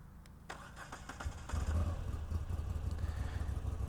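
A Moto Guzzi V85TT motorcycle engine cranks briefly, then catches and settles into a loud, steady idle rumble, close by.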